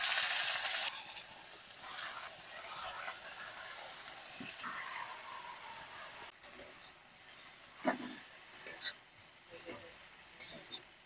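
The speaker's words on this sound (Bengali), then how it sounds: "এবারে কেটে ধুয়ে রাখা পালং শাকগুলো আমি এর মধ্যে দিয়ে দেব।" Chopped spinach frying with onions in a pan, a quiet steady sizzle with occasional clinks and scrapes of stirring toward the end.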